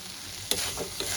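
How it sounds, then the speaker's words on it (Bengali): Potatoes frying with cumin, mustard seeds and a chili-ginger paste in a pan give a loud, steady, close sizzle broken by two quick stirring scrapes. "আমি যে মশলার পেস্টটা বানিয়ে রেখেছিলাম সেটা দিয়ে ভালো করে কষিয়ে নিচ্ছি"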